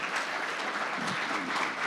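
Audience applause at a morning nonprofit breakfast gathering, a steady, even wash of clapping from a seated crowd that holds for about two seconds without any voices.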